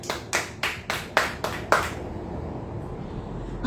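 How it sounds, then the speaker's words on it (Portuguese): Church congregation applause: about six sharp, evenly spaced claps ring out in a steady rhythm, fairly close and reverberant, then stop, leaving a quiet room hum. "Aplauda o Senhor."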